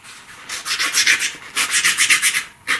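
Sandpaper rubs quickly and closely against a pastel edge in two bursts of rhythmic back-and-forth scratchy strokes, about five or six strokes each, loud and dry with no talking.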